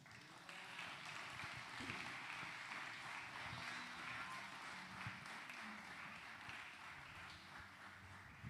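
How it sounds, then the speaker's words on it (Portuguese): A church congregation applauds steadily, a dense wash of clapping held at an even level throughout, heard from some distance. "Aplauda o Senhor."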